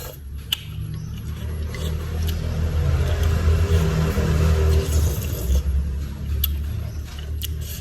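Steady rumble of passing cars on a road behind a house, a continuous low engine drone that swells and fades, moderately loud and with no talk.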